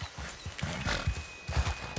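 Horse hooves clip-clop in a steady rhythm with a brief whinny, ridden over mountain terrain in the video game Red Dead Redemption 2, close and fairly loud with no talk.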